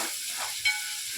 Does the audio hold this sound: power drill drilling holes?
no